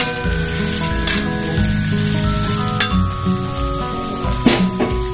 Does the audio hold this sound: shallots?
yes